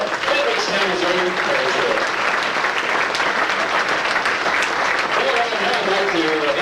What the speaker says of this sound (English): Ladies and gentlemen, let's give him a round of applause out of Fredericktown, Missouri.